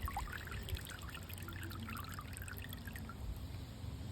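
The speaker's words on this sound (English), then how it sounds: "let it drip." Rinse water dripping and trickling off freshly harvested outdoor OG Kush cannabis buds lifted from a bucket, a steady soft patter of drops close by, with no talking.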